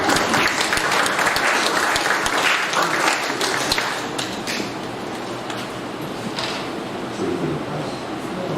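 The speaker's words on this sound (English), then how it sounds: "Yes, you can give the Vice Chancellor a round of applause." An audience at a university symposium gives the Vice Chancellor a round of applause: loud, dense clapping from a full room that starts strong and thins slightly toward the end.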